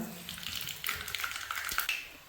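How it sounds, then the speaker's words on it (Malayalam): Mustard seeds tossed into hot coconut oil in a Kerala kitchen pan give off quick, crackly pops and spits over a faint sizzle, close up and fairly quiet, with no talking. "കടുക് ചേർത്ത് കൊടുക്കാം."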